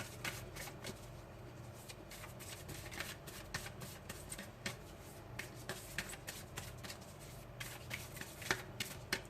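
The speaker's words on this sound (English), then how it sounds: "I'm going to pick a card from the Work Your Light Oracle cards from Rebecca Campbell." Work Your Light oracle cards by Rebecca Campbell being shuffled, a continuous papery riffle of quick overlapping slaps and flicks at steady moderate volume, close by, with no talk.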